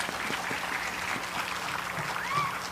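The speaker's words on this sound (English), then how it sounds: "I think that deserves another round of applause." Sustained applause from the audience at a Bharatanatyam arangetram dance recital, a steady wash of many hands clapping throughout, with faint voices mixed in.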